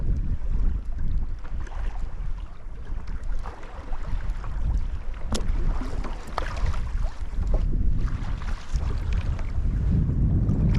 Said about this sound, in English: this wind isn't making things easy either